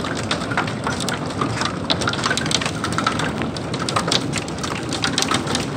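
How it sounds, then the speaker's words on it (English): Hail striking a house during a tornado storm, a dense steady patter and rattle of hard impacts throughout, loud and continuous. "this hail's getting bigger"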